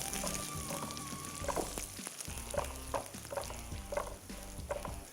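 Hot tadka of curry leaves, cumin, dried coriander and round red chillies sizzles onto kadhi in a cooking-show kitchen, a continuous crackling fry with bubbling pops and stirring throughout, no talking.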